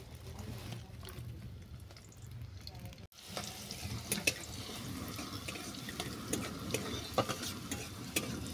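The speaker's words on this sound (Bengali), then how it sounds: "তেল গরম হয়ে যাওয়ার পর কুচানো কিশমিশটা আমি ভেজে নেব।" A steady sizzle of chopped raisins frying in hot mustard oil, preceded by a duller noisy stretch, with occasional clicks of a spoon stirring; no speech.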